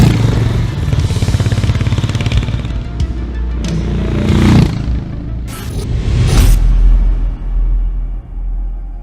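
Harley-Davidson X440 motorcycle engine rumbling and revving nearby, a deep steady throb with rising bursts and some mechanical clatter, no voices.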